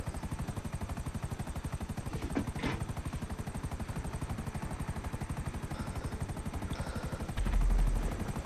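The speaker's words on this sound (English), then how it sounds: "Who here is driving a helicopter?" Helicopter rotor chopping steadily throughout in a video game heist mission, a fast even thump with a brief swell near the end.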